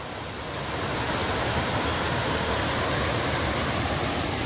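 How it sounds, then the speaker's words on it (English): Cooper Brook Falls, a wild waterfall by a pond on the Appalachian Trail, pouring in a dense, steady broadband roar that swells in during the first half second and then holds loud and close. "This is Cooper Brook Falls."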